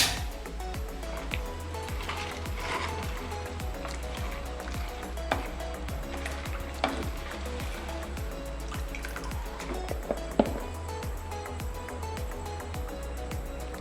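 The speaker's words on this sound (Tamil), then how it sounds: "நம்ம சேர்த்துருக்க ஜாமானுக்கு 3 டம்ளர் வரைக்கும் தண்ணி சேர்த்துக்கலாம்" Water pours and splashes steadily into a cooking pot while making country crab rasam, a continuous close liquid trickle with scattered drips and small clinks throughout.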